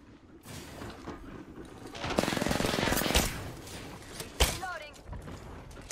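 Automatic and single gunfire in the battle royale game Apex Legends, dense bursts of rapid shots clustered mid-clip with sharper isolated cracks after, loud in the foreground while a voice talks over the action.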